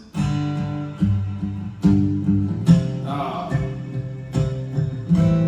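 Acoustic guitar chords strummed one after another without a bass walkout, at a steady, unhurried pace, each ringing out before the next, close and clear.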